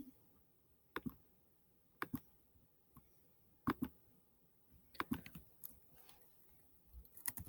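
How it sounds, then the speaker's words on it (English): Typing on a computer keyboard, with scattered, fairly faint key clicks in small clusters and irregular pauses, heard close with no talk. "So we're going to type this in."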